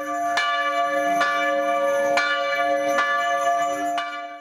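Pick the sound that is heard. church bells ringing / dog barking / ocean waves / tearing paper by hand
church bells ringing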